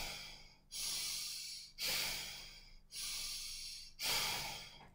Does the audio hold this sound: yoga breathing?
yes